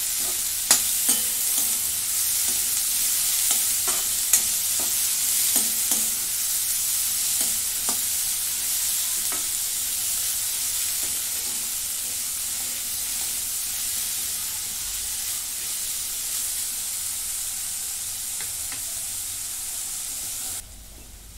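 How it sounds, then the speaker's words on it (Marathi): Chopped tomatoes fry in a pan for paneer masala with a loud, continuous hissing sizzle, with scattered small clicks of a stirring spoon early on, then cutting off at the very end; no voices. "आता ह्याच्यामध्ये चिरून घेतलेले 2 छोटे टोमॅटो टाकून घेते. आपण भाजून घेते चांगलं."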